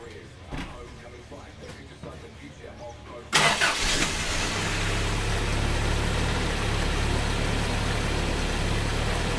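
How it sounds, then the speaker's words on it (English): A Toyota Hilux 4x4 engine cranks and catches after a cab swap, then settles into a steady, loud idle that runs on to the end, following a few seconds of quieter shuffling beforehand. "Alright, now it's wired up. I'm going to fire it up with the battery connected."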